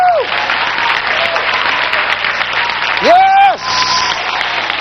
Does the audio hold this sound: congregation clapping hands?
yes